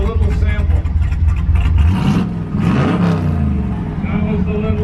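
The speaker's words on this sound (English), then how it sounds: "Listen to this car." A race car engine, number 88, revs loudly and close by at a race event, with a deep rumbling roar and rising pitch sweeps as the throttle is blipped, while voices and crowd noise carry underneath.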